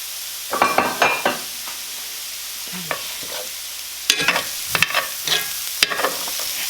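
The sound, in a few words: garlic and bok choy leaves cooking in pan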